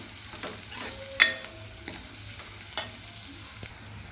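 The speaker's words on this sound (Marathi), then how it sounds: "तर कांदा आपला छान सोनेरी रंगावर येईपर्यंत आपण भाजून घेणार आहोत" Finely chopped onions frying in hot oil in a pan for dal tadka, a soft steady sizzle broken by a few sharp scraping stirs and utensil taps, with no talk.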